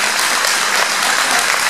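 An audience applauds Françoise, a deputy mayor, at a tenth-anniversary celebration of Cep'Age: dense, steady clapping from many hands, loud and close, with no voices over it.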